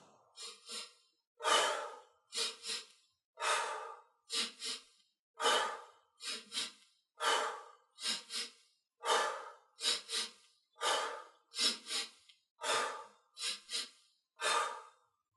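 Slow, deep breaths drawn in and pushed out in a steady rhythm, about a dozen close, clear airy cycles with short silent gaps between them and no talking.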